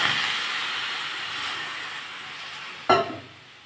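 Water hitting a hot pan of tomatoes, a broad steady sizzling hiss that slowly fades, then a short sharp clink near the end.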